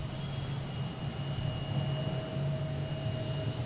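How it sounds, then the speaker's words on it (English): A British Airways Boeing 777 jet comes in to land at Boston Logan, its engines a steady, continuous drone with a faint tonal whine, heard alone at moderate distance. "777 coming in. Oh yeah, British Airways coming in."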